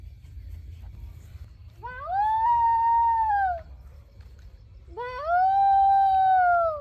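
A dog howls twice, each a long, sustained, tonal wail rising then falling, separated by a brief pause, close and loud.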